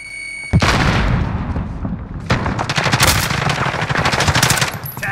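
Gunfire in the video game Call of Duty: Modern Warfare, loud sustained automatic bursts with a sharp crack at the start, then dense rapid shots continuing to the end.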